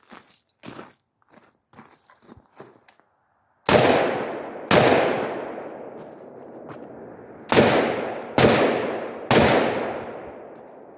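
Five loud, close gunshots of 7.62x39 AK-47 rounds fired from a 7.5-inch AR-15 barrel, each a sharp blast with a ringing decay, spaced unevenly after a few seconds of soft handling clicks and taps.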